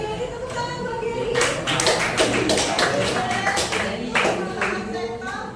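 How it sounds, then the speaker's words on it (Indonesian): A small group claps in a classroom-style session: a burst of hand clapping of a few seconds that rises quickly and trails off, with a voice speaking around it. "Jawabannya ini tepuk tangan buat Gary."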